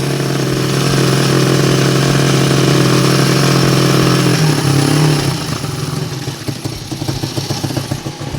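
A motorcycle engine that had sat unused runs at idle in a cold garage, a loud, close, steady putter that dips and roughens partway through before settling into an uneven idle, with no talking.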